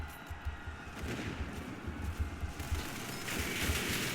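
Rapid SMG gunfire in a video game, rattling in dense bursts at moderate volume amid chaotic battle noise.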